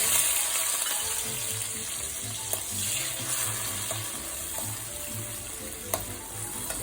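Leftover vegetables from the previous day's pasta fry in hot olive oil in a home kitchen, giving a steady close sizzle with a few soft clicks of stirring and no talk.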